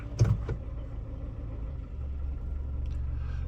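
A 1995 Geo Tracker's engine idles around 800 RPM while not fully warmed up, a steady low rumble close by with a brief knock near the start.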